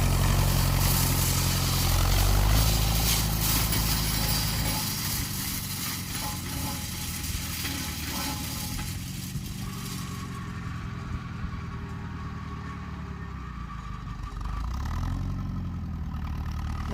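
A small tractor engine runs steadily while raking hay in a field, a continuous mid-pitched drone that stays fairly close with slight shifts in load and no talking.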